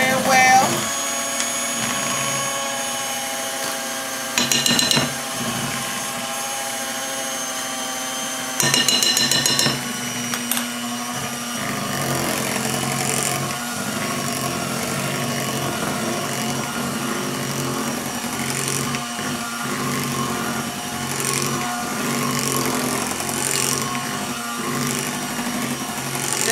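An electric mixer whirs steadily through sweet potato pie filling with lemon zest, a loud continuous motor hum with brief surges in speed, and a voice talks over it.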